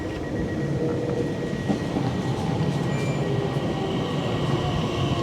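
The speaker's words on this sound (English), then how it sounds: "Here's a train arriving." A train rumbles and rolls along the rails arriving at a National Rail station nearby, a steady low roar with faint metallic squeals and clacks, no talking.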